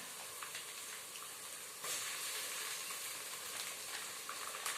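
Onions, green chillies and ginger-garlic paste sizzle and fry in a pan, a steady soft crackling hiss that swells a little louder partway through, quiet and close with no talking.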